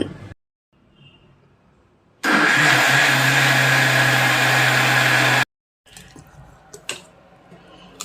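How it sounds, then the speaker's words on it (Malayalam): A wet grinder grinds soaked rice, urad dal and fenugreek into dosa batter with a loud, steady mechanical whir. It runs for about three seconds between quieter stretches of clatter. "ഇന്നലെ രാത്രി അരിയും കുറച്ച് ഉഴുന്നുകൂടെ ഞാൻ കുതിർത്തി വെച്ചിരുന്നു, അത് അരച്ചെടുക്കാൻ പോവാണ്"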